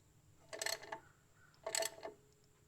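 Two faint metallic clicks from a torque wrench, about a second apart, sound close up against a quiet background while brakes are worked on a 1971 Cadillac Coupe DeVille.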